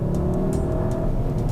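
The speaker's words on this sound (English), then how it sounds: "that sound comes from a 2-liter turbocharged 4-cylinder engine that makes 210 horsepower and 207 pound-feet of torque" Turbocharged 2.0-litre four-cylinder in a 2016 Volkswagen Jetta GLI accelerating, heard from inside the cabin as a steady, loud engine drone with no talking.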